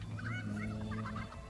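A chicken in a video game gives a quick run of clucking, gobbling calls over a steady low hum.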